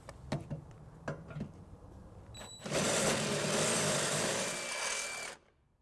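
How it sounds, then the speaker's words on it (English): A few sharp taps, then a power drill fitted with a larger bit whines steadily for several seconds while it enlarges a pilot hole in a 2013 Ford Focus frame for a trailer hitch bolt, then stops. "we have upgraded to a bigger bit. So we're going to go ahead and just enlarge this to be able to get our bolt through."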